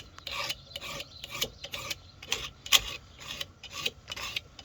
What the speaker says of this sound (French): Moi j'aime bien utiliser la lime arrondie, comme ça je fais l'intérieur et je fais le bout aussi